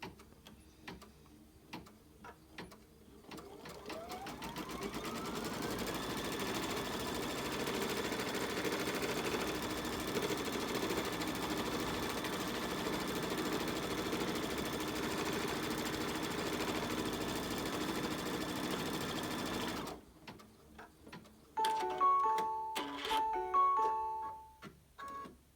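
Embroidery sewing machine stitching after the presser foot is lowered: the motor ramps up into a steady rapid mechanical whir for about fifteen seconds, then stops, followed by clicks and beeps from the machine.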